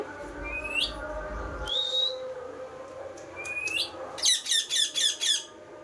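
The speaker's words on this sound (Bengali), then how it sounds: "মামা বাড়িতে এই যে একটা টিয়া পাখি আছে কি সুন্দর ডাকছে সিজ দিচ্ছে" A pet parrot (tiya) at a village home in Medinipur gives several rising whistles and squawks, ending in a quick run of repeated sharp calls, close by and clear against a quiet background.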